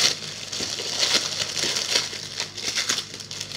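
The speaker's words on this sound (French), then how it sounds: "je vais faire un peu de bruit pour le déballer." Crinkly plastic packaging rustles and crackles in short bursts as it is handled and torn open, close by with no voices.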